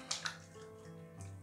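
Cold water splashes and drips faintly during a rinse after a straight-razor shave with a Thiers Issard Bison, with two soft splashes near the start and a low running trickle underneath.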